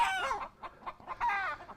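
Older laying hens that have stopped laying eggs cluck loudly and close by, with overlapping squawking calls and a brief lull in the middle before another loud burst.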